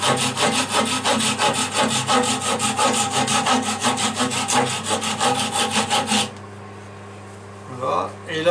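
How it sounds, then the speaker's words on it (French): A hand saw cuts wood for a tit nest box, its strokes rasping in a steady, even rhythm for about six seconds before stopping, leaving a quiet room with a brief soft noise near the end. "je vais déjà marquer ici à la scie"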